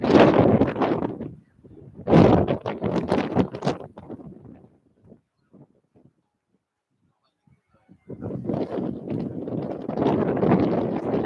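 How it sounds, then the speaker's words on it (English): Gusty wind buffets the microphone on Nha Trang beach, loud roaring bursts at the start and end with a quieter lull in between. "It's quite windy today."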